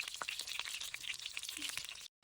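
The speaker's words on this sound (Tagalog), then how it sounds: "nagpiprito na ako dito ng talong" Halved eggplant frying in a pan, a steady close crackle and sizzle with scattered sharp pops, fading out abruptly at the end.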